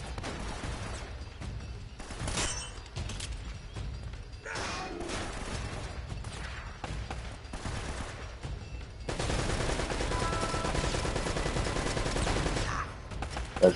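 Gunfire in the Uncharted video game, with bursts of shots breaking out through the scene and a long, steady volley near the end, heard close and loud over the game's background noise.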